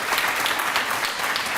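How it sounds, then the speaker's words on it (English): Steady applause from an audience at an awards ceremony, dense continuous clapping that holds evenly throughout without pause. "I'd love it if you give her a little round of applause"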